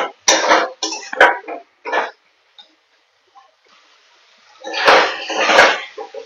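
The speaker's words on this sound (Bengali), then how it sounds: "এরপর খুব ভালো করে নেড়ে চেড়ে নেবো কিন্তু" Ash gourd curry being stirred in a pan, the spoon giving several short scraping and clattering bursts early on, then a louder, longer run of stirring near the end.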